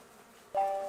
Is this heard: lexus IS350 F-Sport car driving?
no